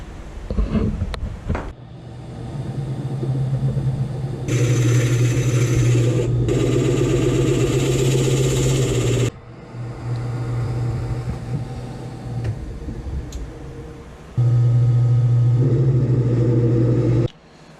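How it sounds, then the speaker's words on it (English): A wood lathe spinning while a walnut salt and pepper grinder is turned, giving a steady motor hum and whir that stops and restarts several times with short pauses between runs. "Slow the lathe down."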